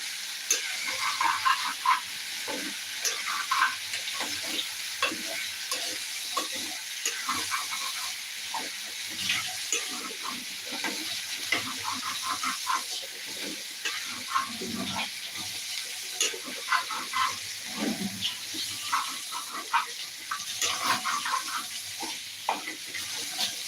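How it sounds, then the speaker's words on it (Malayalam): A spoon stirs green pea curry with freshly added coriander powder in a hot pan, making steady, irregular scraping strokes over a continuous close sizzle and hiss for the whole stretch, with no talking. "നന്നായിട്ട് ഇളക്കി കൊടുക്കുക"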